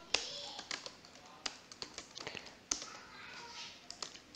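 Computer keyboard keys tapped in quick irregular bursts while text is typed into an HTML editor, close and fairly quiet, with no talking.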